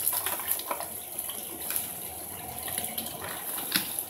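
Running water rinses perlite, a steady splashing gush with brief louder bursts, used in preparing a mushroom fruiting chamber; no voices.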